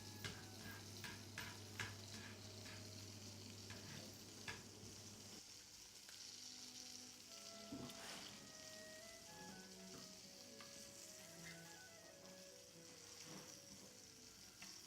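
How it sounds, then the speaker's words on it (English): Bacon frying in a pan gives a steady close sizzle and crackle throughout, with a low hum early on and faint clinks and music-like tones later, no talking. "I'm making bacon."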